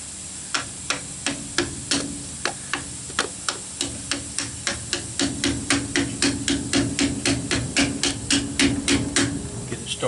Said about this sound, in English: We're going to just smack this on here with a hammer.